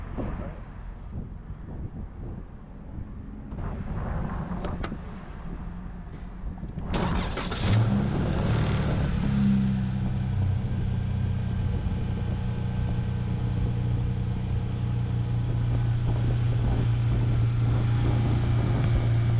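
A car engine starts and settles into a steady idle with the air conditioning switched on, a low continuous hum after a quieter opening with faint background noise.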